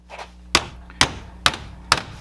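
Four evenly spaced, sharp hammer blows strike sheet metal resting on a workbench while it is bent over the bench edge for a homemade rabbit feeder, each hit close and loud with a short ringing decay.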